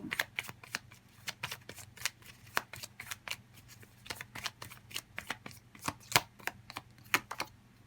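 Tarot cards are shuffled and drawn in a rapid, even series of crisp flicks and riffles, close and fairly quiet, with no voices over them.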